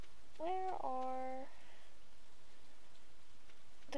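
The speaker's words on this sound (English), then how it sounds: "It's raining." Steady rain falls outside on a farm, a soft continuous hiss through the whole stretch, with a brief tonal call rising over it near the start.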